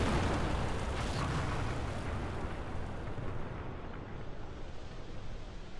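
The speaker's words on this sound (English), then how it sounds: "Ignition." Rocket engine ignition in Kerbal Space Program RP-0 roars as a loud, dense broadband blast that starts at full force and gradually thins and softens over several seconds.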